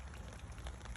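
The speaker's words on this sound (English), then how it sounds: "It's proper hammering it down with rain." Heavy rain hammering down at night on a spring carp fishing bank, a steady dense wash of broadband hiss with scattered drop patters, continuous and fairly close.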